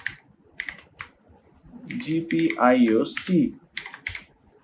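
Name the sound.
typing code on a computer keyboard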